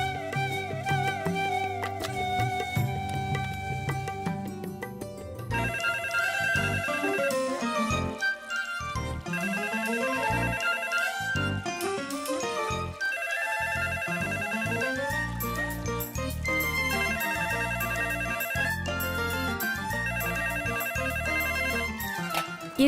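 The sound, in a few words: phone ringing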